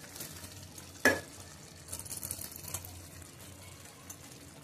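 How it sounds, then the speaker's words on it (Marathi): Pieces of dragon stalk yam dropped into a pan of cooking coconut, onion, ginger and garlic, giving one sharp close clatter and sizzle, followed by quieter stirring scrapes and soft frying. "आता ह्याच्यामध्ये आपण टाकणार आहोत"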